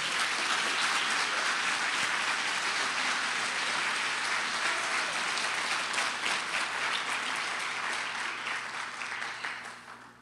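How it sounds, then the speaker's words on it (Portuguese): A church congregation applauds during a sermon, a dense, steady wash of clapping that fills the space for about ten seconds before thinning and fading at the end. "Aplauda Jesus essa noite"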